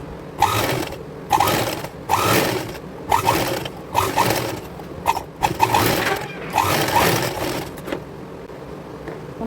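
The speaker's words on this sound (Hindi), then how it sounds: "और अब हम इस पर सिलाई लगा देंगे" Sewing machine stitching a seam down the middle of the elastic waistband on a girls' palazzo, running in repeated bursts of rapid whirring with brief pauses between, close and fairly loud throughout.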